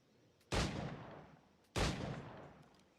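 Two loud, sharp gunshots from the pirate-era game Assassin's Creed Black Flag ring out about a second apart, each with a quick crack and a fading echoing tail, no talk over them.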